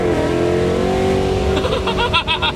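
A supercharged Coyote V8 in a 2013 Mustang GT revs hard and loud nearby, a sustained whining roar that climbs and then breaks into sharp pulsing bursts near the end.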